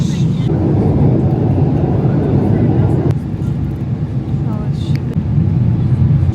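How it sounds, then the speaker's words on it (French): An airliner descends on its final approach, a loud steady cabin rumble and engine drone heard from inside the plane, continuous throughout with a few faint clicks. "on est en train d'atterrir, il reste genre 10 minutes de vol"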